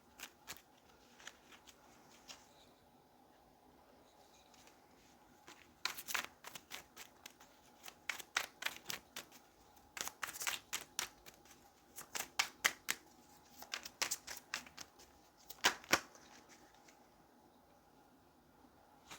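Tarot cards being shuffled and drawn by hand, with quiet riffling and sharp snapping flicks in irregular bursts, close and soft against a near-silent room.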